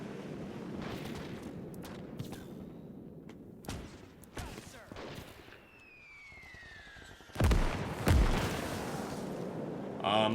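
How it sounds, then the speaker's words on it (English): In a WW2 Battle of Saipan video game, incoming mortar shells whistle down in falling tones. Two heavy, rumbling blasts land close together, over distant gunfire and wind noise. "those mortars are still coming in hot and heavy"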